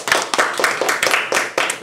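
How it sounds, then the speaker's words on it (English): Applause from a small audience after a student's persuasive speech at a school event: close, uneven bursts of hand claps from a few people, fairly loud, with no talking. "Let's give a round of applause."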